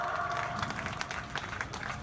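Steady applause from an audience at an Independence Day celebration, a dense even wash of many hands clapping that holds at a moderate, constant level throughout.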